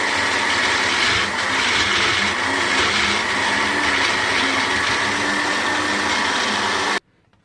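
A kitchen blender grinds onions into a paste for Afghani chicken karahi, a loud, steady whirring motor running continuously for about seven seconds before cutting off abruptly.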